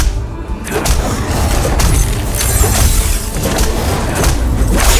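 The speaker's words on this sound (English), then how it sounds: "Enemy turret destroyed." Enemy turret destroyed in League of Legends: Wild Rift, a dense crashing boom with rumbling debris and shattering layers held at steady loudness for several seconds, alone without talk.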